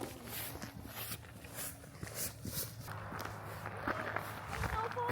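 Footsteps crunching through fresh snow on a cold outing among trees with snow falling, a steady walking rhythm of close crunches under ongoing conversation.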